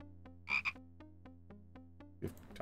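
Frog croaking in the Simon the Sorcerer video game: a steady run of short, evenly spaced croaks over a low droning game soundtrack, fairly close, with a louder burst of effects near the end.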